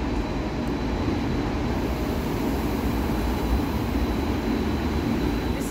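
A tram rolls past on the tramway tracks in Bergen, Norway, making a steady, fairly close rumble and rail noise that holds through the clip without speech.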